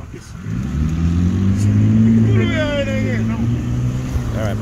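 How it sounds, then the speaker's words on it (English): A bus pulls up at a stop outdoors, its heavy engine rumbling loud and steady with a rising, shifting drone as it arrives, while traffic noise fills the background. "my bus is here"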